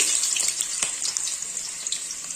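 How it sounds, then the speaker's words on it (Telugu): Chopped onions sizzle in hot oil for a chicken curry, a loud continuous close crackle with small pops throughout and no voices. "ఆయిల్ హీట్ ఎక్కుతుంది కదా ఇప్పుడు దాంట్లోనే ముందుగా తరిగి పెట్టుకున్న ఆనియన్స్ వేసుకోవాలి"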